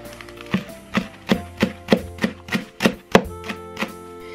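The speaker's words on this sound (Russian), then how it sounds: "Зелень нам необходимо просто мелко нарезать." A knife finely chops fresh herbs on a board for a lavash pie, about ten crisp, evenly spaced cuts close by with no talk.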